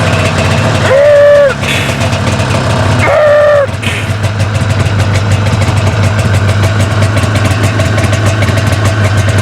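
A snowmobile engine idles with a loud, steady, rumbling drone close by. A couple of brief rising and falling tonal bursts sound over it early on.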